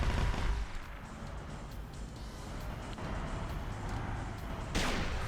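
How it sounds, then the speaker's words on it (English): A vehicle-mounted autocannon fires in a winter airbase assault in a military video game, with sharp repeated blasts and booming reports over dense, rumbling battlefield noise, a loud burst standing out near the end. "someone grabbed the vehicle autocannon and used it"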